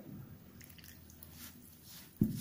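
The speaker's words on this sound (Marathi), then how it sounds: "आता थोडं थोडं पाणी घालत भिजवून घ्यायचंय आपल्याला।" Methi paratha dough is kneaded by hand while water is added a little at a time, making soft, close, wet squishing sounds. The sound is quiet, with one sharper squelch near the end.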